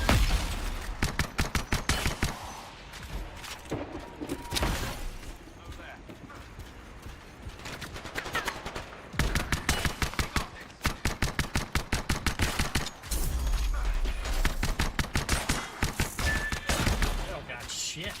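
Rapid pistol gunfire in the video game Anthem crackles in dense bursts and volleys against outlaws, loud and near, with pauses between strings of shots.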